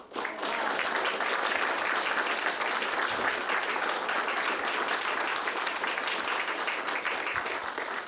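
Audience at a county commission meeting applauds a hockey team bound for its national tournament in Dallas, a steady, full wash of clapping from many hands that sustains evenly for about eight seconds with little else beneath it.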